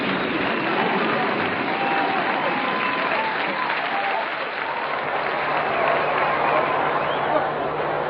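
A vast joyous crowd in St. Peter's Square cheers and applauds Pope Benedict XVI on the Vatican balcony, a steady, dense roar of clapping and voices that never lets up.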